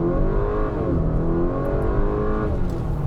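2025 Acura RDX A-Spec with its turbocharged engine at full throttle, a loud steady engine roar with rising harmonic pitch through the run, up close and with no talk.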